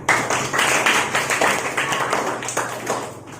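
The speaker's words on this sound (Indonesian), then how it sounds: "Kita beri tepuk tangan buat Syarifah." A classroom of students claps together for a classmate during a lesson, a burst of fairly loud, irregular clapping that carries on steadily for a few seconds.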